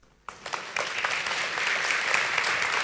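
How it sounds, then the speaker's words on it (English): An audience at the FODI 2022 festival session breaks into applause after a brief silence, swelling quickly into steady, full clapping from a large crowd. "getting applause for just saying good morning"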